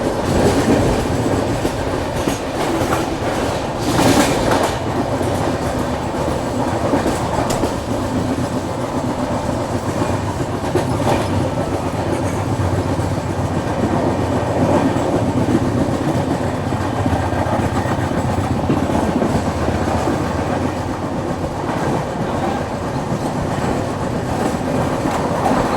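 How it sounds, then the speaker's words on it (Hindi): Ahmedabad–Mumbai Double Decker Express running through Dadar station at speed without stopping, a steady loud rumble of wheels and carriages with rhythmic clickety-clack over rail joints, continuous throughout with no voices. "आई आज डबल डेकर एक्सप्रेस। अच्छी खासी रफ्तार में दादर रेलवे स्टेशन को स्किप करते हुए।"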